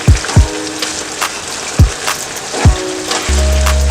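Diced potato tipped into a pan of meat pie filling, a run of soft thuds and drops landing in the moist mixture, several distinct hits spaced irregularly, then a steady electronic tone.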